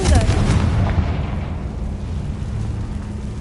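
A Confringo fire spell detonating in the Hogwarts Legacy video game: a loud, booming blast at the start that rolls into a long rumbling decay and fades over a few seconds.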